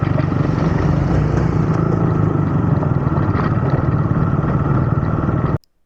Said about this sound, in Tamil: பார்த்தீங்களா ஒருத்தர் மனோ எப்படி ஓவர்டேக் பண்ணிட்டு போகிறாருன்னு அந்த ஹிமாலயனில்.